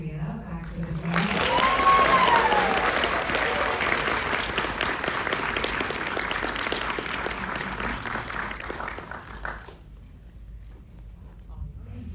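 Audience applause at a Heavenly Creatures Q&A welcoming Clea back to the stage, a loud sustained crowd clapping that swells quickly, holds steady for several seconds, then cuts off into quiet room tone.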